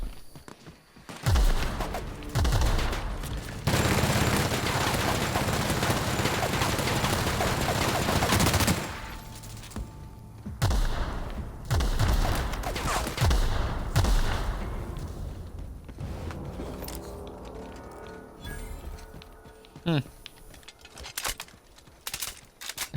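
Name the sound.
gunfire in video game The Outer Worlds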